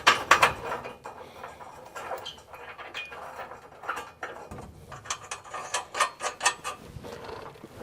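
A hand ratchet clicks close up while bolts are tightened on a 240 engine swap, in quick irregular bursts of sharp metallic ticks with brief pauses and faint shop clatter.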